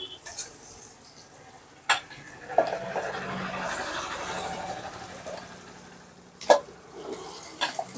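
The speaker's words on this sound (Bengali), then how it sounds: "একটু নেড়ে নেব নেড়ে নিয়ে এরপর মাছটাকেও এই পেঁয়াজের মধ্যেই দিয়ে দেবো" Spatula scraping and clinking in a frying pan as raw kuche fish rubbed with salt and turmeric goes into sizzling onions, with sharp metallic taps at intervals over a soft, steady fry.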